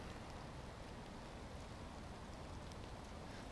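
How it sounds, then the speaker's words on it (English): Steady, fairly faint rain falling continuously, a broad even hiss with no voices, as a heavy downpour sets in outdoors. "It's starting to rain a lot."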